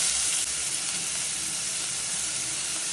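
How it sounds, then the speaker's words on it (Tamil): Onions and tomatoes sauté in a pan for a red ponnanganni greens kootu, a steady, close hiss and sizzle with no talk. "தக்காளி எல்லாத்தையும் நல்லா வதக்கிட்டேன்"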